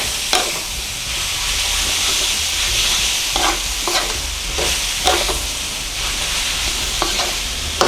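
Pork being stir-fried with homemade curry paste in a pan for a Trat-style pork curry with chamuang leaves: a steady loud sizzle with repeated scraping stirs of the spatula, close by.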